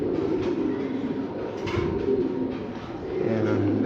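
An adult pair of Damascene pigeons coos close by, a steady run of low, throaty, rolling calls that carries through the whole stretch over a faint background rumble, with no one speaking.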